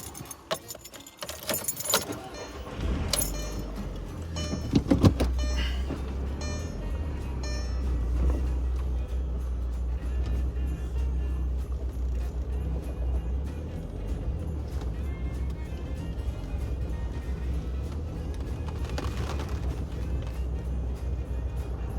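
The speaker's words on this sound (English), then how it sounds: "We are going for a drive in my car now that I've replaced that part" A car, just reassembled after a part replacement, starts out with jangling keys and door clunks, then pulls away on a Cincinnati drive, its steady low engine rumble and road noise holding loud and continuous throughout.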